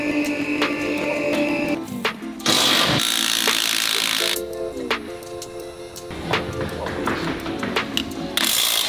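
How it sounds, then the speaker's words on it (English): A spare wheel is wound down from beneath a 4x4 with a loud, close mechanical ratcheting that runs in uneven bursts, backed by metallic knocks and clanks. "Is that how you bring down your spare wheel?"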